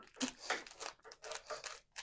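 Several short bursts of crinkling and snipping sounds, like scissors cutting through plastic packaging, close and fairly quiet, with no talking.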